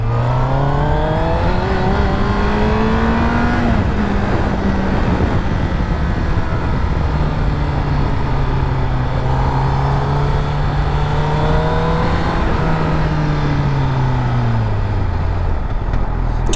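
A Honda CBR 1000RR four-cylinder sport motorcycle engine revs and accelerates through several gears, loud and close, with pitch climbing and dropping between shifts.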